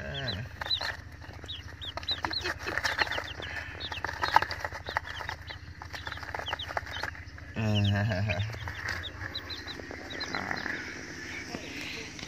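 A box of about ten baby chicks peeps repeatedly in quick, high chirps up close, with a brief louder rustle or thump near the end.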